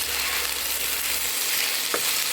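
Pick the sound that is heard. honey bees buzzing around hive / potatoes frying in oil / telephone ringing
potatoes frying in oil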